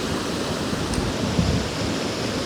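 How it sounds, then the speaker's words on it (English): A river rushes down over rocks at Sligachan, with a steady, loud, dense roar of water and no break. "The force of that water coming down the river."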